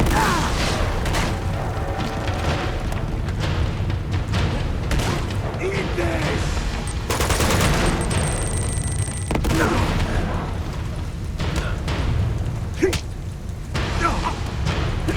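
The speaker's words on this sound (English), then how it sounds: "Now they're throwing more grenades around." Grenades exploding during a firefight in the video game Uncharted 2: Among Thieves, with repeated heavy booms and crashing bursts amid gunfire, while someone talks over the action.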